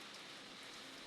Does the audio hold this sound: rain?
yes